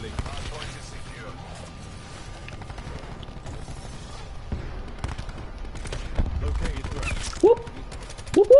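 Gunfire on the Nuketown map in Call of Duty, with scattered shots and mechanical clatter running under a player's talk, growing louder near the end.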